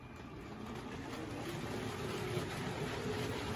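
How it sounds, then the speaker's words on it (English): A faint, steady mechanical rumble with a light rattling whir of a Lego toy train rolling along its track, with no talking. "we'll get the Disney train going."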